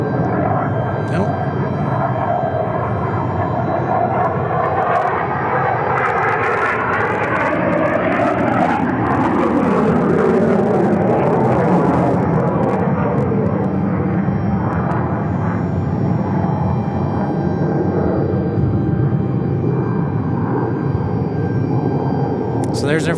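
Air National Guard F-16 fighter jets taking off at Tucson International Airport, a loud roaring engine rumble that swells and fades over many seconds, with people talking faintly beneath.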